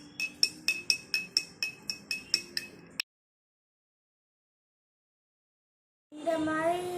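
A spoon stirs coffee jelly mixture in a glass, clinking rhythmically about ten times in quick succession, followed by silence and then a brief burst of other sound.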